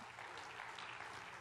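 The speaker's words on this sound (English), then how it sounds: "Could you give the Lord a hand clap of praise and wake up your spirit this morning?" A church congregation claps in praise during a morning service, a soft, steady patter of many hands that stays distant and even throughout, with no talk over it.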